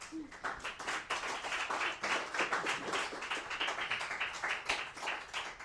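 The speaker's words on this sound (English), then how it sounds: "let's give it another round of applause." Applause from a seminar audience on rebuilding the left, a dense and steady patter of many hands clapping that sounds fairly quiet and somewhat distant, continuing evenly for several seconds.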